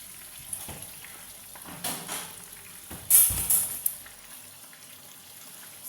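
Meat being added to a simmering okra stew in a pot, with soft sizzling and bubbling, a few splashy plops and stirring sounds, fairly quiet.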